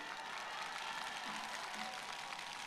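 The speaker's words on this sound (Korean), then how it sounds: "큰 박수 부탁드립니다." Faint, distant applause from a crowd at an outdoor union rally, a continuous wash of clapping heard at low level.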